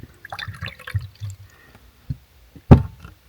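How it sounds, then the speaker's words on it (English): Water poured into a water heater in the desert makes gurgling, splashing trickles with small knocks, followed by a louder clunk near the end, close and fairly quiet. "So first let's pour water in it."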